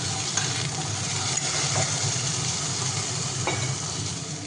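Potatoes frying in a pan for a home-cooked mutton curry, giving a steady broadband sizzle that stays even and close throughout with no voices.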